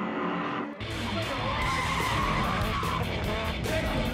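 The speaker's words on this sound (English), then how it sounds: "So we sent MILLEN down to find out how to yank an e-brake" A drift car at a Formula Drift 2005 event at Soldier Field, Chicago, skids as the e-brake is pulled, giving a loud, sustained tire squeal over the roaring engine, close and continuous.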